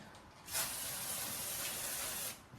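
Edible lustre spray hisses onto a cake decoration in one steady burst of about two seconds, soft and close, with no talk over it.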